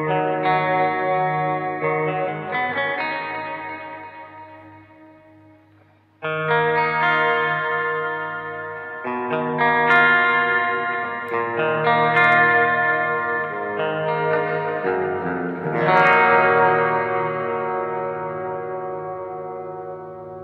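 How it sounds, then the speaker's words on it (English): An electric guitar plays through delay into a KMA Cirrus reverb pedal, with loud sustained chords blooming into long echoing repeats and a slowly fading shimmering tail and no talking. "we're going delay into reverb first"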